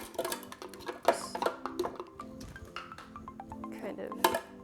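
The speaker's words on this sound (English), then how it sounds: "So we're gonna put some frozen fruit into the blender." Frozen fruit, a mix of raspberries, blueberries and blackberries, dropping into a blender jar for a smoothie, giving a few sharp clinks and clatters with softer rattles in between, close and fairly quiet.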